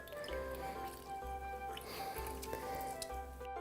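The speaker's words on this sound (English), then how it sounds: "I've got a nice little 1/4 wedge of lemon, and we're just gonna squeeze that right into our drink" A quarter wedge of lemon is squeezed by hand into a fruitcake cocktail, giving soft close squishes and small drips of juice, faint and brief against a quiet background hum.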